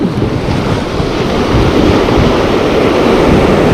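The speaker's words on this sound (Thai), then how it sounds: "ลมขึ้นขึ้นแรง" Strong wind and crashing waves at sea, heard from a boat on a squid fishing trip: a loud, continuous roar of gusts and surf that rises slightly toward the end.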